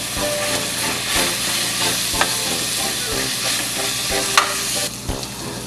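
Homemade pork loin tocino frying in a little oil, a steady close sizzle and crackle that runs throughout with a few sharper pops and utensil scrapes.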